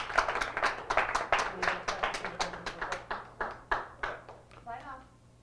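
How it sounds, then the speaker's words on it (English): A small group claps in a loose, uneven rhythm of distinct handclaps, close and fairly quiet, with the clapping thinning out toward the end. "let's all give Alphinius Goo a round of applause."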